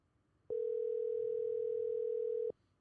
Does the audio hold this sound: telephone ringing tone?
yes